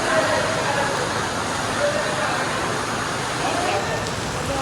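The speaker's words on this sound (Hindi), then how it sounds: "बारिश हो रही है।" Rain falls steadily outside a car detailing studio, a dense, even hiss that stays close and unbroken throughout, with no voices.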